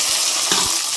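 Chopped tomatoes fry in hot oil with turmeric and salt in a pan, a close, steady sizzle with a faint stirring scrape partway through.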